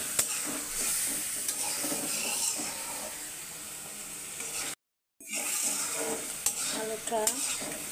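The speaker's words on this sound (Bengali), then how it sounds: "আলুটা কষিয়ে নিব।" Potatoes are stir-fried in a pan for a river fish curry with eggplant, with a soft continuous sizzle and scraping spatula strokes and clinks. A brief silent gap is followed by more stirring.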